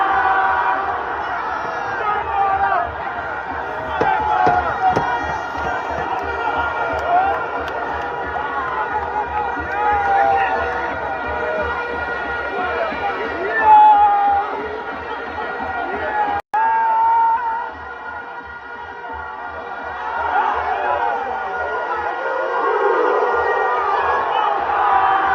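Football stadium crowd at a Jamaica versus Bermuda World Cup qualifier, a broad, roaring murmur of thousands of fans swelling in anticipation, with chanting and horn-like tones running underneath at a steady, distant level.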